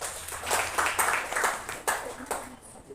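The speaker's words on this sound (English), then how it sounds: "Let's give her a round of applause." A classroom audience gives a short burst of scattered hand clapping, moderately close, with a few sharper individual claps near the end.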